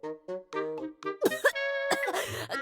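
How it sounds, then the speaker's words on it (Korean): Coughing from a character in the video game Trickcal, a few harsh bursts cutting in after a run of chirpy, music-like voiced sounds, fairly loud and close. "갑자기 기침이."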